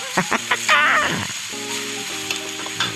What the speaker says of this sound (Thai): ผัดนะฮะผัดให้ผักขมของเราสลดหดหูเลยนะครับ